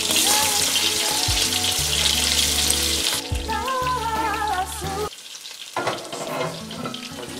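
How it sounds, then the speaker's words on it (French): Chopped onion drops into hot oil and fries with a loud, hissing crackle that settles into a steady sizzle, while background music with changing tones plays throughout. "Maintenant que l'huile a chauffé, je verse l'oignon découpé pour faire frire."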